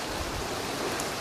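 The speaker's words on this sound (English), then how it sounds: "this rain is coming in pretty fast and fierce" Fast, fierce rain pours down outside a resort villa in Cap Cana on a warm day, a steady, even hiss of falling water with no voices over it.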